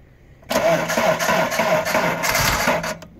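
A car engine cranks hard on a minus-20 frost, jump-started from a power bank, churning steadily for about two and a half seconds before stopping without catching, loud and close.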